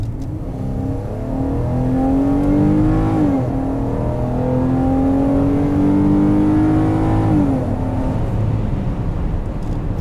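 Ram 1500 pickup from 2016 with a V6 engine revving hard in two long climbing pulls, each rising in pitch then dropping back, loud and close with steady engine drone between and no talking.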